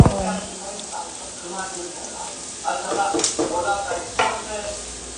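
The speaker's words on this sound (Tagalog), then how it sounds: "nilagay ko na rin pala yung bawang" Garlic fries in hot oil with a soft continuous sizzle, broken by louder bursts of stirring and scraping in the pan, while a person talks over it.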